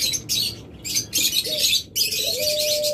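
Caged lovebirds and cockatiels chirp in quick bursts of high twittering, with a few brief gaps, close and fairly loud, and a thin whistled call toward the end.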